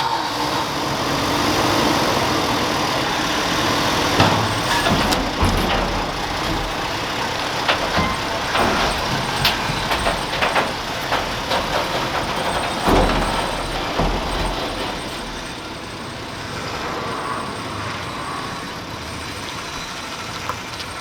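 A 1980s Ford Mustang engine running as the car is driven into a driveway, a steady rough idle and low rumble with a few louder revs and mechanical clatter, close and continuous, no talking.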